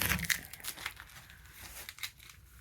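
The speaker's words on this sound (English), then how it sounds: "I'll get this tape off." Masking tape is peeled and crumpled off a freshly painted truck toolbox, producing close, crackly tearing and crinkling bursts in quick succession.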